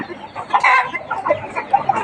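Fighting cocks at a farm give short, close clucks and squawks in a brief uneven burst, moderately loud, with no voices.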